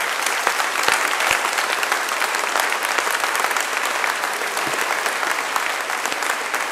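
A church congregation stands and applauds during the welcome at a Sunday mass in Vauréal: dense, steady clapping from many hands filling the nave throughout, with no voices over it.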